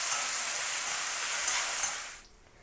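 A paste of ginger, garlic and onion fries in a pan for a catfish curry, giving a bright, even sizzle that holds steady, then fades quickly toward quiet in the final moments.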